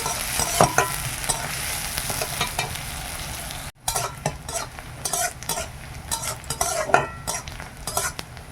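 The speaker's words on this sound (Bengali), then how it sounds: "তেলটা গরম হয়ে যেতে পেঁয়াজটা দিয়ে দিলাম, পেঁয়াজটা ভেজে নিই।" Onion sizzles in hot oil for a spicy fish curry, making a continuous close frying hiss broken by stirring clatters of a utensil against the pan, with a brief dropout partway through.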